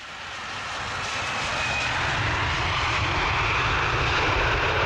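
An airplane engine roars at an airport in Berlin during boarding, a broad steady rumble that swells gradually louder over several seconds.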